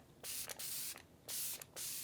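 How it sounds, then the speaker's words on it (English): Benefit Professional setting spray is spritzed onto a face in two pairs of quick, close mist bursts, each a crisp hiss separated by brief quiet gaps. "I think I want to use some setting spray today."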